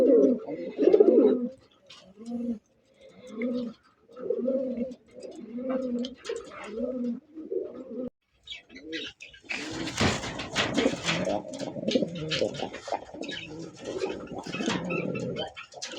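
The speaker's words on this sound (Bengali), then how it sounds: "এটা গোপালগঞ্জের বড় পায়রা বলে দেশি" Repeated low, throaty coos of large local Gopalganj pigeons in a steady rhythm, close by, later joined by louder rustling and flapping activity.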